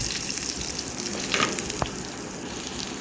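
Mustard seeds, cumin and shallots fry in hot oil for a chickpea curry tempering, a close, steady sizzle with a few small pops and a brief clink, no voices.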